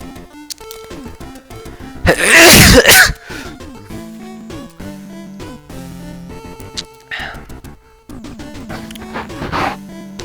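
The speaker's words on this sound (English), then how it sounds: "I just sneezed" A single sharp sneeze bursts out close to the mic, loud and brief, with a person talking before and after it during a gaming stream.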